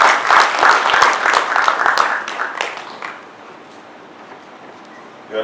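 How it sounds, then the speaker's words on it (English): A round of applause for the chairman at a formal Nigerian gathering, dense clapping for about three seconds before fading out to quiet room tone. "Mr. Chairman, sir, please a round of applause for him."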